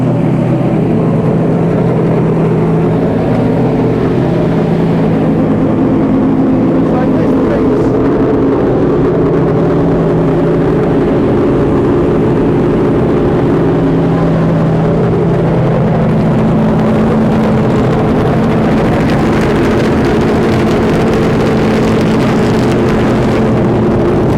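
Racing car engines at Goodwood Festival of Speed produce a loud, continuous roar that swells and drones on without a break, with a dense wash of mechanical noise and crowd ambience throughout.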